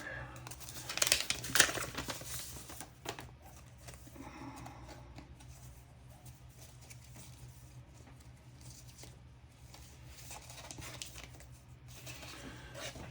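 A wrapped Christmas gift being unwrapped, with loud crinkling and tearing of wrapping paper in the first few seconds, then quieter rustling and handling over a low hum.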